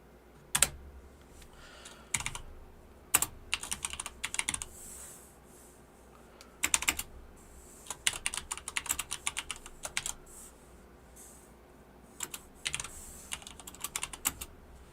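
A computer keyboard clacks in irregular bursts of typing, with quick runs of keystrokes and pauses between them, close and fairly quiet, with no voices.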